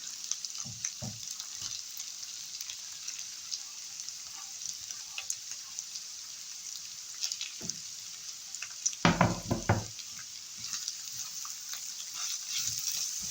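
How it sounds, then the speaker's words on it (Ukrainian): Onion, sausages and carrot fry together in a pan with a bright, continuous crackling sizzle, broken by occasional stirring knocks and a louder scraping burst near the middle; nobody talks. "І все разом підсмажуємо."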